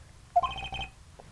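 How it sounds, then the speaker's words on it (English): A short electronic phone ringtone in the video game Phoenix Wright: Trials and Tribulations chirps twice, quiet and close, over a low background hum. "Oops, sorry, that's my phone."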